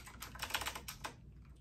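Rapid typing on a computer keyboard, a dense run of close, crisp key clicks that thins out and stops near the end, with no talking.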